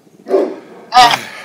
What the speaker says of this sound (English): I do apologize for the dogs in the background.